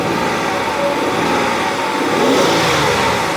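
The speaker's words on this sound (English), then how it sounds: "My friend is ripping up the engine and nothing happened" A Mazda MPV 3.0 minivan with power loss and no acceleration has its engine revved hard, giving a loud, steady roar that swells slightly midway, with a faint voice behind it.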